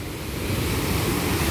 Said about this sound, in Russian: О, а тут, смотрите, какая вода. Вау, бурлящая.